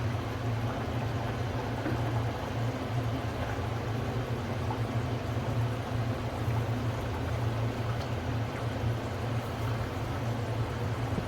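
Mutton curry simmering in a pot, with a steady low bubbling and seething murmur that holds evenly throughout, close and fairly quiet, with no voices.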